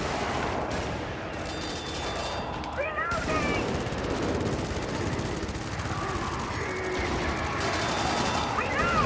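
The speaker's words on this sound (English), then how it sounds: "if you have a machine gun, you should be shooting" Video-game machine guns fire in continuous rattling bursts over a steady battle din, with scattered shots and clatter around them and a person talking intermittently.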